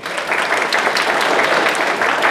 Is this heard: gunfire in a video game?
no